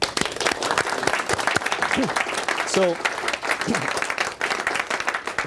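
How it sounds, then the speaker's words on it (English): Applause from an audience at a talk: dense, continuous clapping from many hands throughout, with scattered voices and brief cheers mixed in. "Round of applause."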